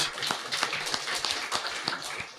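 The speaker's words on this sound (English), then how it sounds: "let's clap hands for the Lord." A church congregation claps hands together in a steady, rhythmic beat of sharp, evenly spaced claps, fairly close and continuous throughout.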